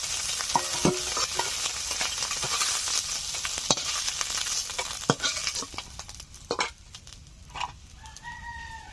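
Small fish frying in hot oil in a village kitchen, a steady bright sizzle with intermittent stirring clinks and scrapes, fairly close, and a faint rooster crow near the end.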